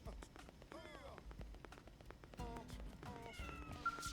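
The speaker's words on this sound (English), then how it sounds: "I'm playing with this cat." A cat in the video game Xenoblade Chronicles X gives several short rising and falling meows over busy game background noise and thumps, fairly faint in the mix.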